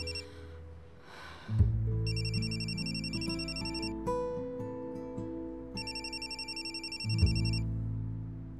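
A mobile phone ringtone plays a repeating electronic melody for several seconds while the call goes unanswered, loud and close, with no talk over it.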